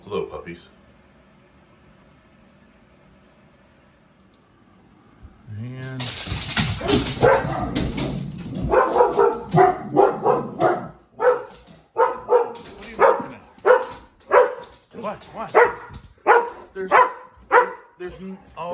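Dogs bark repeatedly nearby in a rapid, excited series of yips and barks, following a quiet stretch with a faint voice.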